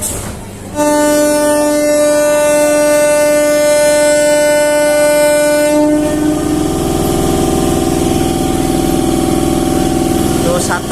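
A loud, sustained train horn blares over a rumbling engine, then gives way to steady mechanical droning as the train gets moving close by.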